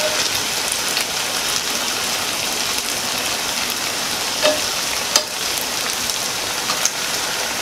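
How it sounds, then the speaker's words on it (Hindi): Wheat flour pakoras deep frying in hot oil, a steady dense crackling hiss throughout with a few faint pops and clicks, close and uninterrupted. "हमें इनके दोनों तरफ से हल्का ब्राउन होने तक फ्राई करना है।"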